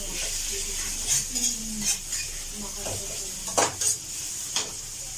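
Carrots are cooked in a pan, with a soft background sizzle and a few sharp clinks and scrapes of a utensil against the metal, spaced irregularly and close by.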